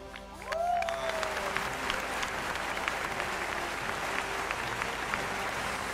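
An award-show audience breaks into sustained applause for a winner, clapping swelling quickly after a brief musical sting and continuing steadily, dense and fairly close.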